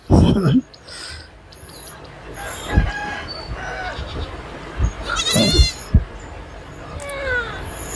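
Goats and kids bleat intermittently on a goat farm, with a few short cries over background rustling and low murmurs.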